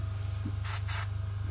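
Airbrush with no nozzle cap spraying a weathering wash for a localized application, two short soft hissing bursts in quick succession over a steady low hum, fairly faint and close.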